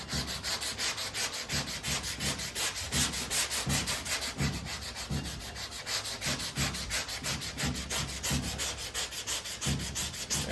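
A sanding block is worked steadily back and forth across a car body panel, producing a loud, even rasping rub in regular strokes of about two per second, with no voices.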